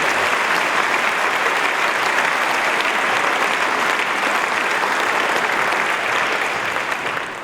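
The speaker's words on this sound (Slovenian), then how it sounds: "Bravo, še en aplavz za njih" Dense, sustained applause from a large audience fills a school anniversary celebration for a teachers' band, loud and even from start to finish before tapering slightly at the end.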